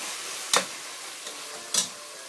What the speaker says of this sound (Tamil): இது 2 கிளறு கிளறி விடுங்க